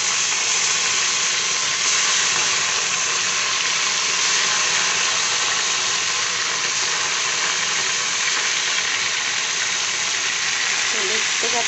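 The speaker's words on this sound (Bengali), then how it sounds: "আর কড়াই তেল দিয়ে দিয়েছি, মাছটাও ছেড়ে দেবো।" Fish frying in oil in a wok, a dense, steady sizzle that holds at high level for the whole stretch with no break.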